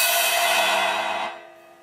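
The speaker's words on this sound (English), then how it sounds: "you strike the crash cymbal" A crash cymbal rings out with a bright, shimmering wash that holds steady for about a second, then fades away quickly.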